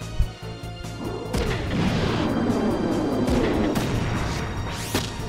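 A shotgun fires in the video game Front Mission 3, with sharp blasts and crashing impacts followed by a long rumbling boom and a final bang near the end, fairly loud, with no talk.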